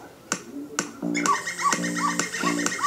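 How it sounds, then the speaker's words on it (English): A phone ringtone from the animated show Helluva Boss mixes a bright repeating electronic tune with little yappy dog barks, after a few sharp snap-like clicks at the start. "he got like little barking noises in his ringtone"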